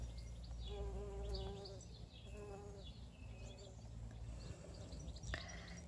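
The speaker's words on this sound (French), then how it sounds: "les abeilles, les bourdons." Bees and bumblebees hum around fragrant garden flowers, a soft continuous buzzing with passing drones, while birds chirp faintly in the background.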